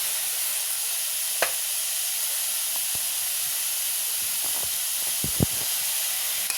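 Chilli sauce poured into a hot pan for a street-style veg roll gives a soft, steady sizzle and hiss, with a few sharp spits and crackles near the end, close and fairly quiet.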